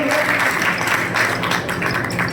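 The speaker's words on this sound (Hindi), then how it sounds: "जोरदार तालियां हो जाए" A crowd applauding at a student award ceremony, a dense, sustained patter of many hands clapping at once, loud and continuous.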